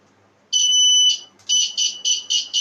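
A homemade continuity tester buzzer sounds a loud, shrill, piercing tone: one long beep, a brief pause, then a rapid series of shorter pulsed beeps, close and alone.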